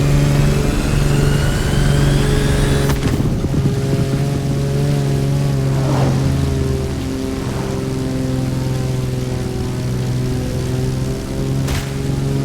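An SSV side-by-side racing at high altitude roars loudly, its engine revving with rising and falling tones and a steady harmonic drone, close and continuous.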